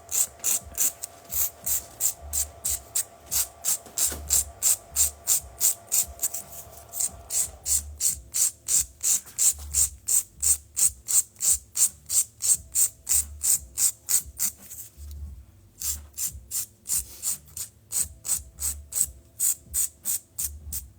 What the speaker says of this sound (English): you might take that to file the cuticle